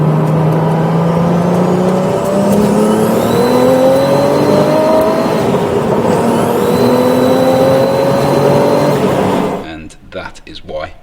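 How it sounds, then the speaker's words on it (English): An aircooled 650hp Porsche 911 964 Turbo with an HKS T04S turbo revs loudly on a test drive, engine pitch climbing through gears in long rising pulls, with a person talking over it. "you probably heard the car making some quite loud noises on the test drive that I did."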